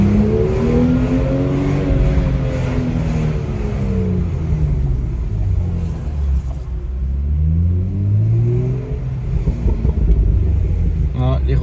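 BMW M2 engine rumbling and revving while driving with the window open, rising and falling harmonic sweeps as it accelerates and lifts off, loud and close throughout, with exhaust pops and crackles.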